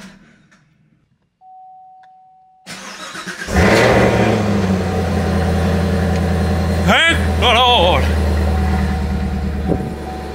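After a quiet start and a short beep, a 2017 Chevrolet Camaro ZL1 engine cranks and catches, then idles with a loud steady rumble while people talk nearby.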